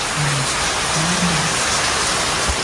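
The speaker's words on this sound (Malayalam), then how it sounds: "മഴയാണ് ഗൈസ്" Steady rain falls outdoors, a dense even hiss filling the short stretch, loud and continuous with a faint low murmur beneath.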